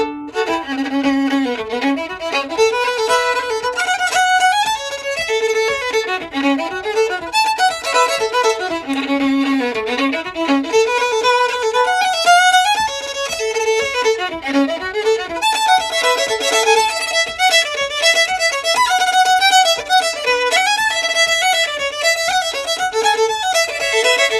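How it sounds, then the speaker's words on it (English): Lively bowed fiddle playing a fast reel, with quick ornamented triplet figures woven into a steady, continuous melody. "that bowed triplet sounds like this in a reel."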